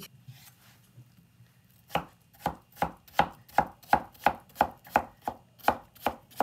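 A knife chops vegetables for Salvadoran salpicón on a cutting board: after a short pause, about a dozen crisp, evenly spaced strokes land close and loud in a steady rhythm, with no talking.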